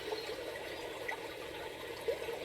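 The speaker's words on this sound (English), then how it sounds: "Enjoy the beautiful sounds of water and the birds." Steady, gentle flow of water runs continuously, with a couple of faint chirps rising briefly above the wash.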